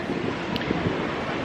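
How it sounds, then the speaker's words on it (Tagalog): Strong wind buffets the microphone at coastal windmills in Ilocos, a steady, broadband rumble with faint surf-like wash underneath, continuous for the whole stretch with no voices. "Sobrang ganda dito and sobrang lakas ng hangin."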